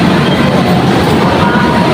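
An MRT metro train in motion, a loud continuous rumble with rail clatter heard close up from inside, no speech.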